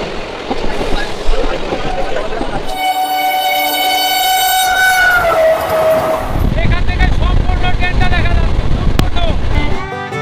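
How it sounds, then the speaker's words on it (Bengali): Trains at a busy railway station, with a long, loud train horn blast in the middle of the clip over a steady rumble of rolling stock and general station noise. "এই স্টেশন থেকে কিন্তু প্রতিদিন শত শত ট্রেন চলে যায় ভারতবর্ষের বিভিন্ন জায়গায়"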